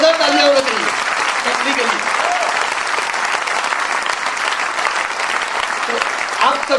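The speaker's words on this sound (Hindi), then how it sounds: "तो एक बिग हैंड होना चाहिए स्मार्ट वैल्यू के लिए, जोरदार तालियां होना चाहिए" A training workshop audience claps loudly and continuously, a dense sustained wash of applause lasting several seconds, with a voice briefly audible at the start.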